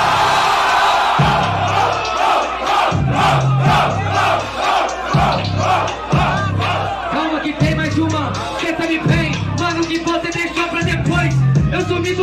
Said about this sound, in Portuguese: Então vai pra plateia, eu fiz a rima,